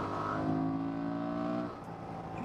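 A Honda Transalp motorcycle engine revving hard in a sustained high-RPM pull, loud and close, then easing off sharply near the end, with no talk.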